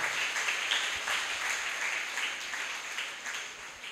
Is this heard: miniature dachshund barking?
no